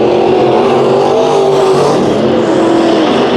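Race cars roar loud and close through a heat race at Bakersfield Speedway, a dense continuous engine drone holding steady with slight pitch swells as they push on the gas.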